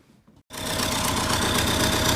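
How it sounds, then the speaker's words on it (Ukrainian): An MTZ tractor engine with a freshly repaired exhaust pipe cranks and catches after a short pause, then settles into a loud, steady, close-up chugging idle with a rhythmic knock. "Так, друзі, завели ми трактора. Ось так працює вихлопна труба, можете послухати зблизька."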